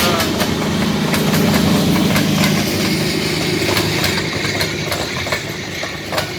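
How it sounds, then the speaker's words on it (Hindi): The Jaffar Express passenger train pulls into Golra railway station from the Lahore direction, with a loud engine rumble, rolling wagons, and sharp intermittent clicks and clanks from the wheels. "ये ट्रेन जो है लाहौर की तरफ से आ रही है और अब ये गोलड़ा रेलवे स्टेशन पे पहुंची है"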